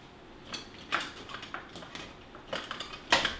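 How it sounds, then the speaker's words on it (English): A utensil stirs pecan pie bar mixture in a bowl, with quiet scattered clinks and scrapes in an uneven rhythm, close but faint. "I'm going to go ahead and give that a little stir"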